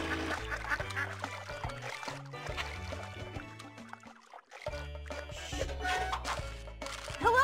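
Baby ducks quack in a pond in the Putt-Putt Pep's Birthday Surprise computer game, with short cartoon quacks over cheerful background music.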